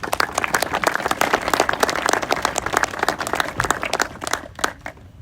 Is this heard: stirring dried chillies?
no